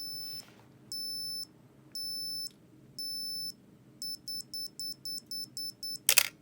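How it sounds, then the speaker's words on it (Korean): A Cosina CT-7 film SLR camera's self-timer beeps at a slow steady pace, then speeds into rapid beeps before a sharp shutter click at the end. "셀프 타이머는 와인딩 랩을 감고 이 부분을 이렇게 눌러주시면 삐 소리가 나면서 이렇게 찍히게 돼요"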